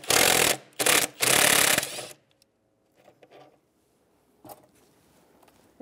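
Socket wrench loosening a throttle body mounting bolt on a 1999-2004 Jeep Grand Cherokee, a burst of loud ratcheting clicks up close, then quiet with a few faint metallic taps and clinks.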